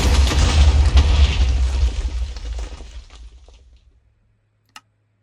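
A loud booming explosion in Minecraft with a crackling, shattering tail slowly fades over a few seconds, followed by silence and one sharp tick.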